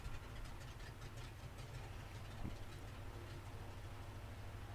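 A light aircraft engine idles in flight during a descent on a cross-country trip from Chattanooga toward Knoxville, a steady low droning rumble with a constant mechanical pulse, heard continuously and fairly quiet under cabin noise.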